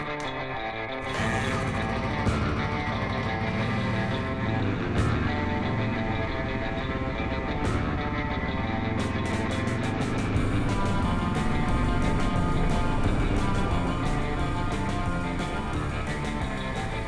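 A Honda XR600 motorcycle engine with an electric start conversion runs outdoors, a steady continuous drone at moderate level with brief revs and clicks, no talk.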